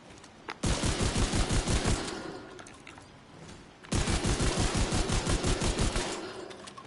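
Loud automatic gunfire from The Division 2 on PS5 comes in two long, rapid, evenly paced bursts separated by a short pause, with no talking.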